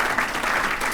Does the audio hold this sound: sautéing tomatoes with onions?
no